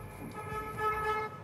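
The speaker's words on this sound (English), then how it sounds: "they have to get people to honk to them" A vehicle horn sounds a steady, fairly quiet toot that lasts about a second over road and traffic rumble.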